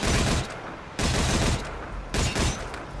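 Rapid bursts of gunfire from the video game Metal Gear Online 3 come in three loud clusters of quick, repeated shots, separated by brief pauses, with no voices over them.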